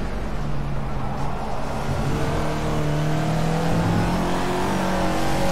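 A Caterham Super Seven races at Donington in Project CARS, its engine droning steadily and loud through a chicane in third gear, the pitch rising gradually with a whirring, rasping tone and no voices.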